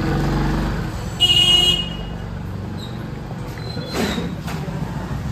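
Traffic passes on a Varanasi street among vegetable carts: a constant rumble of motorbikes and cars, a sustained horn blast near the start, and further honks and engine swells nearby.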